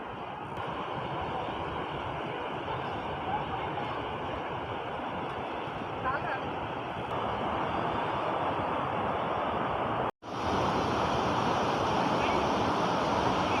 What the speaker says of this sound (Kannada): ಇದು ಗೊಡ್ಚಿಮಲ್ಕಿ ಜಲಪಾತ